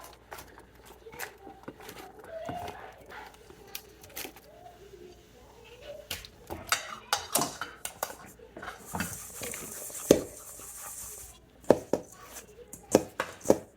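A medium-sized red onion being chopped on a board in a home kitchen, knife strikes coming in irregular bursts, some close and sharp, scattered among soft clatter of utensils and birdsong faintly outside.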